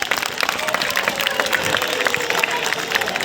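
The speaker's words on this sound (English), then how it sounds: "Give this lady a round of applause." An audience at a science festival water show applauds a volunteer, a dense burst of clapping that stays steady and fairly loud for a few seconds.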